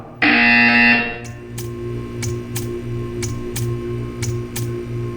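A loud, steady electronic buzzer tone from the video game Portal 2 sounds for about a second, then stops, leaving a quiet hum with faint periodic ticks.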